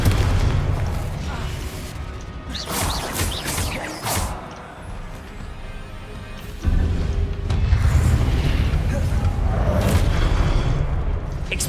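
The Confringo fire spell in Hogwarts Legacy sets off booming explosions amid game combat, with a deep rumble and crashing bursts, loud and close, while a person talks over the action.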